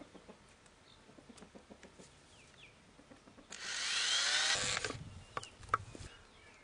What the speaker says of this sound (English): to attach this, I'm just going to use a timber screw